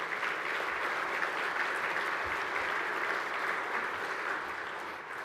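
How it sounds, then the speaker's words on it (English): At a hardwood industry conference opening session, a large audience claps steadily for the sponsors, a sustained, even ovation that tapers slightly at the end. "So can we have a round of applause for all the sponsors, please?"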